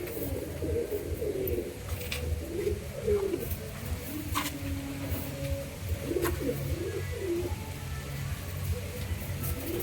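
Lakka pigeons, a fancy breed, coo in repeated soft, throaty rolling phrases, close by and fairly quiet, over a constant background hiss with occasional faint clicks.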